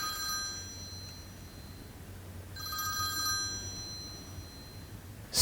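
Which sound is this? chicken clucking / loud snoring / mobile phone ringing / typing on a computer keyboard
mobile phone ringing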